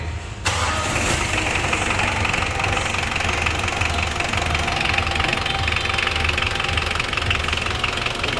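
Mitsubishi Adventure engine cranks and fires after a rocker arm repair, then runs at a steady, loud idle close by with a busy mechanical clatter.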